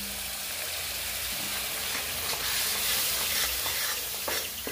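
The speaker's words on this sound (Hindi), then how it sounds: "मसाला को अच्छी तरह से जो है भून लेते हैं।" Masala paste of mustard, garlic and black pepper with chilli powder sizzles steadily in a pan while a spoon stirs it, with clear scraping strokes over the continuous frying hiss.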